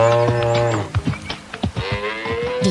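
A black and white cow on a farm moos loudly and close, a long drawn-out call followed by shorter grunting lows, with no voices.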